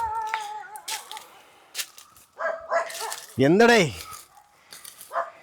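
A dog barking in short bursts at a rural hillside spot, with a loud yelping whine-like bark in the middle, while someone speaks briefly between the sounds.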